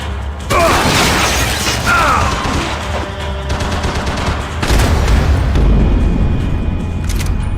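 Gunfire bringing down loose ceiling tiles in Max Payne 3: loud shots and crashing debris with rattling impacts, then another heavy burst of noise midway, all close and dense.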